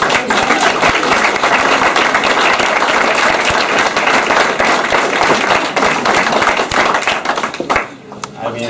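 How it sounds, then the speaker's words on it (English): A big crowd claps steadily at a senior sports recognition event, dense and loud throughout, thinning briefly near the end before picking up again. "And a big round of applause."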